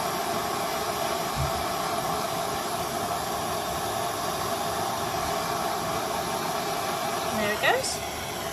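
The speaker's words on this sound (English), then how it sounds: "So now I'm going to heat my wire until the solder runs." A torch heating wire to melt solder, giving a continuous steady hiss and rushing roar throughout, with a brief clink near the end.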